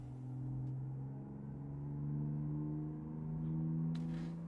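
A car drives along a highway toward Berlin, a steady close engine drone and road rumble with gentle swells in loudness, no voices.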